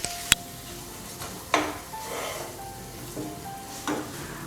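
Mawa (milk solids) roasting on low flame in a pan while being made into chandrakala sweets, a faint steady sizzle with a few sharp scrapes and taps of a spatula against the metal.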